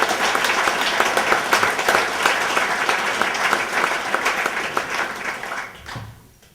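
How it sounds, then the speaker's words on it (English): An audience at a keynote gives a speaker a loud, sustained round of applause, dense clapping that holds steady and then fades out quickly near the end. "give Bill a round of applause again for his leadership, his vision, his great at"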